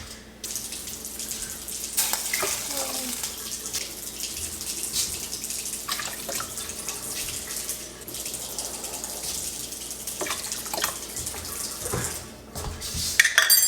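Water and chicken broth pour into a pot in a steady splashing stream, with a few light clinks of kitchenware and no talking.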